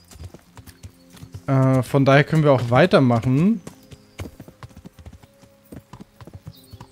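Horse hooves clip-clopping at a steady walking rhythm while riding in the medieval video game Kingdom Come: Deliverance, heard under someone talking in German.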